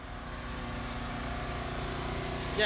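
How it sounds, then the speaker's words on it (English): A generator runs steadily beside a row of idling diesel trucks. It makes a continuous, fairly loud mechanical drone that holds level throughout and swells briefly near the end. "Generator's a little loud."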